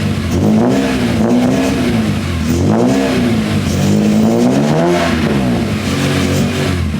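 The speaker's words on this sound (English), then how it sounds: "I'll set the camera down for you guys to get a couple revs in." A BMW E30 with a swapped S54 engine revs loudly at close range, its pitch rising and falling through several blips over a steady idle.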